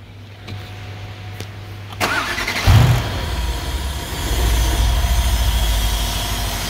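A 2015 Mercedes SL63 with 134k km cranks and fires up after fuel injector work, catching with a loud burst and then settling into a steady rumbling idle, close up.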